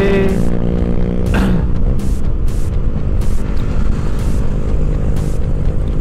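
Motorcycles ride on a road between Palembang and Bangka, a loud continuous engine drone with wind buffeting and a passing whine from nearby traffic.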